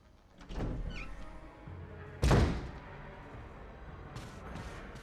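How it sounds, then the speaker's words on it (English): Heavy door pushed open in the survival-horror game Resident Evil HD, a single loud thud and creaking swing standing out mid-clip over a low, murky game ambience. "So we're going through this here door now."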